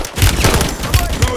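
Rapid gunfire and booming explosions from Call of Duty: Modern Warfare 3 gameplay, loud dense bursts of shots close up, with voices shouting in-game combat orders over the fire.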